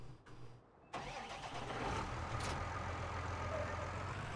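A tractor engine in Farming Simulator 19 cranks and catches about a second in, then settles into a steady mid-pitched running drone that stays fairly loud and even to the end.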